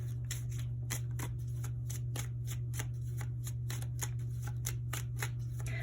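Tarot cards are shuffled and drawn, a rapid series of crisp flicking riffles at an even rhythm, close to the microphone over a steady low electrical hum, with no talking.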